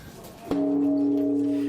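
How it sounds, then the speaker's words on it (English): A single deep temple bell strike in Tokyo, Japan, rung for the New Year, rings out and hums on with a long, steady sustained tone, standing clearly alone. "Bells rang in the new year in Tokyo, Japan"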